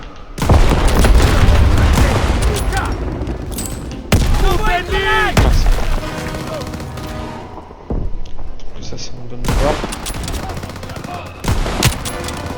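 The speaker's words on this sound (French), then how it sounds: "Feu à volonté, tout le monde!" Heavy gunfire in Call of Duty WWII, with bursts of rifle and machine-gun fire and booming blasts that come in loud waves with brief pauses, voices calling out over the battle.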